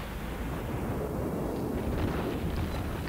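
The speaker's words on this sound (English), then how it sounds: "The reload on this 152mm guns is surprisingly quick" The St. Louis cruiser's 152mm guns fire in World of Warships, blending into a dense, continuous low rumble of booming salvos with no distinct individual shots standing out.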